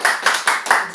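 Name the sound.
audience applause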